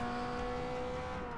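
Race car engines in the Forza Motorsport 6 video game, including a Porsche on a circuit. A steady, droning engine note runs continuously at low level with no break.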